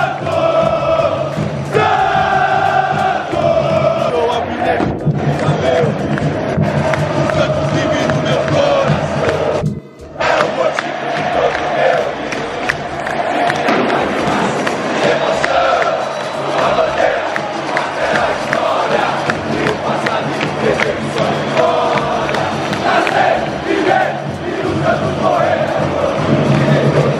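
Santos football supporters chanting as the away crowd in a stadium, a loud, sustained mass of voices singing and shouting together, with a brief dip partway through before the roar resumes.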